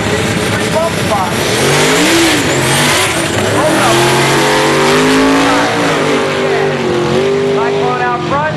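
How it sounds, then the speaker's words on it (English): A small block Ford Mustang drag car running nitrous at a drag strip screams hard down the track, its loud engine note rising through gear changes, with an announcer talking over it. "small block Ford Mustang on nitrous oxide power side"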